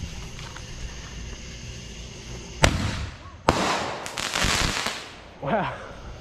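Fourth of July fireworks bursting nearby, with a sharp loud bang followed by several crackling, booming explosions and a whistling rocket near the end, over faint background chatter.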